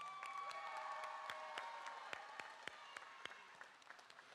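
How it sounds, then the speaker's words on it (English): Applause at the 2021 TEMPO graduation ceremony: a crowd claps in a dense, faint, distant patter, with crisp individual claps standing out as it slowly thins and fades. "So give yourself a round of applause."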